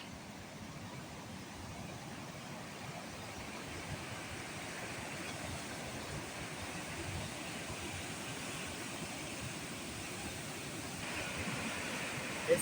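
Water rushing through the rocky bottom of a gorge in a conservation area, a steady broadband roar heard continuously at moderate distance with no pauses.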